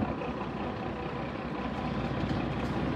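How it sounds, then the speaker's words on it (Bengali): Fishing boat engine running continuously, a steady low rumbling drone that stays close and even throughout, with no talk over it. "একটু ফিশিং বোট চালানো শিখতেছি।"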